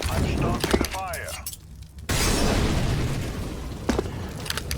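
A molotov fire ignites in Counter-Strike on the Anubis map, a sudden shattering burst followed by a sustained roaring crackle of flames, with game sounds and clutter around it.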